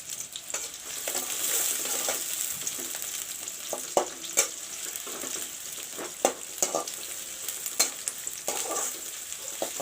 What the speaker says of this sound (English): Till the onion turns golden brown,